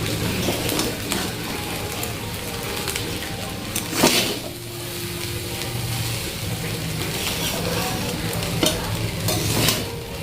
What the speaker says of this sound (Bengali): খালি খুন্তি দিয়ে নাড়তে থাকো তো নাড়তেই থাকো